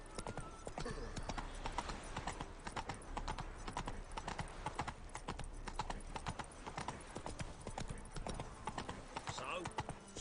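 Roach the horse gallops in a video game, hooves clip-clopping in a quick continuous rhythm, close and steady across the whole stretch with a speaking voice over it.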